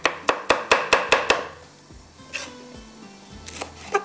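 Vegetables for a hara masala drumstick kabab are chopped on a board with about eight quick, evenly spaced knife strikes, close and crisp, followed by softer scattered clatter, with no talking.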